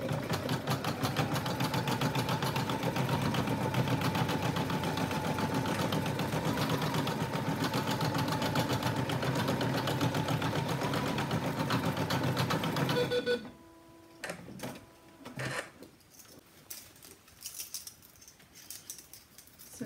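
An embroidery machine stitches applique placement lines for a snail body, a steady rapid mechanical whirring hum for about thirteen seconds, then stopping abruptly and leaving a few faint clicks and handling taps.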